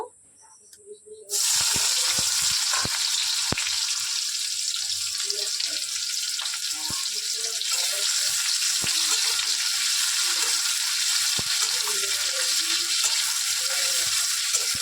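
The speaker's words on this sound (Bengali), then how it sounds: "আমি এই মাছ ভাজা তেলেই পেঁয়াজ ফোড়ন দিয়ে দেব।" Sliced onion tempering in hot oil left from frying fish, for a home-style fish and pointed gourd curry; a sudden loud, steady sizzle starts after a quiet second and carries on with faint stirring scrapes.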